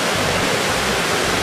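Creek water rushing steadily over rocks in the Australian bush, a continuous broadband roar filling the whole short stretch, close and fairly loud with no voices.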